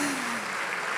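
Supporters applaud a rugby player during a team presentation, a brief burst of dense, continuous clapping from a crowd.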